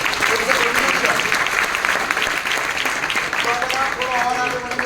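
A company gathering's audience breaks into loud, sustained applause, a thick continuous roar of clapping with voices audible through it toward the end.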